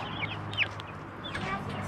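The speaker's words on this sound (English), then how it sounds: "that's our new chickens. Easter egg bannies." A small flock of Easter Egger bantam chickens clucks and chirps in a farm coop, with short, high calls scattered over steady outdoor background noise at moderate distance.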